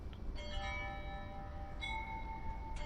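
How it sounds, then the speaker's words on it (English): Chimes ring out in a few clear, sustained bell-like tones, struck three times and left to linger over a quiet, noisy background. "There are those chimes again"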